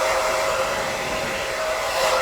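An old Hot Tools hair dryer blows with a steady, loud, even rush of air and a constant whining tone, running alone throughout.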